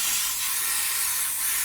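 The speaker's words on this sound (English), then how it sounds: "I've got to make sure I spray around the outside" An Iwata airbrush sprays water-based paint onto an RC car body shell, a steady close hiss of compressed air and paint mist, continuous and without talk.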